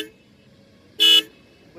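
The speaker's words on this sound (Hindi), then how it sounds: "भैया ने हॉर्न की आवाज़ सुना सकते हैं भैया?" A twin horn fitted to a Royal Enfield Classic 350 motorcycle sounds one short, loud, bright blast for about a fifth of a second, standing out sharply above a low idle rumble.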